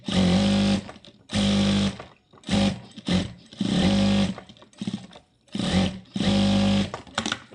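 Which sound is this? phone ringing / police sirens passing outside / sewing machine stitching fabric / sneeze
sewing machine stitching fabric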